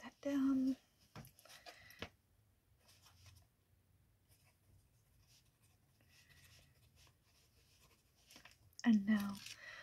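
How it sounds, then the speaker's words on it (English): A pen scratches quietly on paper while a face measurement is written down, a faint soft scribbling between louder handling sounds at the start and end of the quiet ASMR setting. "Alright, let me write that down."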